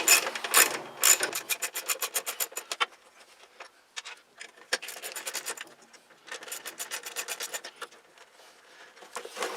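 A ratchet wrench backs out small 3/8-inch-headed bolts holding the fuel tank on a garden pulling tractor: close, brisk bursts of rapid clicking in several runs, broken by short pauses, with no talking.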